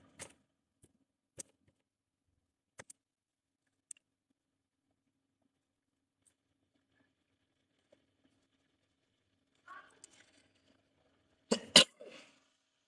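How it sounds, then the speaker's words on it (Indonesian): A person coughs a couple of times near the end, a sharp close burst breaking an otherwise quiet stretch dotted with a few faint clicks and taps. "Saya tidak bisa lama-lama karena rada batuk."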